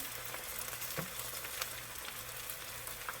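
Bottle gourd balls fry in hot oil while being stirred, giving a steady, soft, even sizzle with occasional faint clicks of the spoon, no voices.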